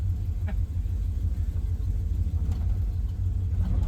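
A 1978 Ford F-250 truck drives along with a steady, heavy low-end engine rumble and road noise, continuous and close as heard from inside the cab, with no talking.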